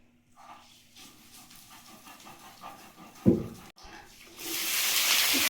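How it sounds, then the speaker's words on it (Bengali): Nigella seeds hitting hot mustard oil in a wok set loud sizzling going. After a stretch of low murmuring, a sharp burst lands and then gives way to a strong, steady, hissing sizzle that fills the closing seconds. "কড়াইতে সর্ষের তেল দিয়েছি, দেবো একটু কালো জিরে"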